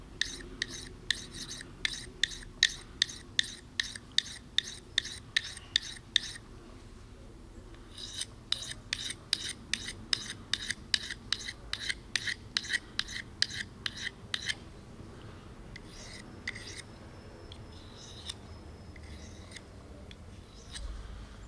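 An abused D2 steel knife is drawn over a fine sharpening stone in quick, regular rasping strokes, a dense run of steady scrapes, a pause, then another series that thins out into quiet; close and clear with no talk.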